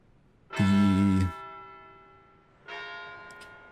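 A tower clock bell in a video game chimes twice: a loud, ringing strike that decays slowly, then a second, softer strike after a short pause, with no talk over it.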